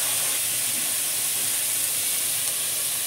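Pressure cooker venting steam after the heat is switched off, a steady loud hiss that holds evenly throughout with no talk.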